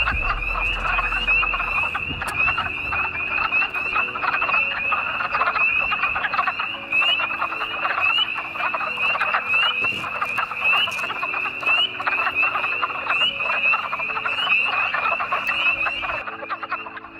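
Wood frogs call at a vernal pool, a dense chorus of quacking croaks, loud and continuous, close and overlapping, with no talk.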